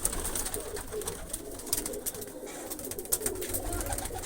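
Pigeons coo softly and repeatedly nearby, low throaty calls over a light background rustle and flutter.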